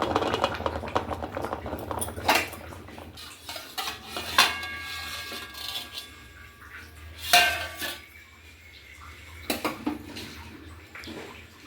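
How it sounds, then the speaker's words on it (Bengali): A lid lifted off a cooking pot of doi ilish on a gas stove, heard as a few sharp metallic clanks and scrapes of cookware scattered among quieter kitchen rustling, close and isolated. "এবার আমি ঢাকাটা আমি সরিয়ে নেব। গ্যাসটা নিভিয়ে দিচ্ছি।"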